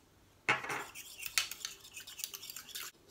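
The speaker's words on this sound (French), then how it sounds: "Je vais mélanger dans mon eau" Donkey milk stirred into water in a cosmetic mixing bowl while making an anti-aging face cream: a quick run of scraping, clinking utensil strokes against the bowl, close and fairly quiet, with no talking.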